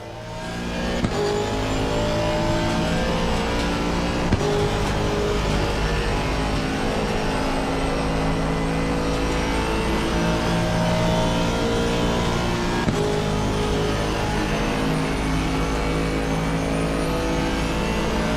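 Race car engine in the sim racing game Assetto Corsa Competizione, a loud sustained drone with layered harmonics, rising and falling with gear changes and braking, heard alone throughout.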